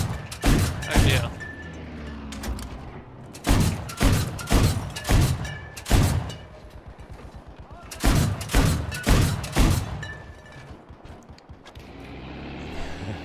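Valentine anti-aircraft tank cannon in Battlefield 5 on the Narvik Conquest map, loud bursts of rapid booming shots with short gaps between volleys and rumbling engine noise underneath.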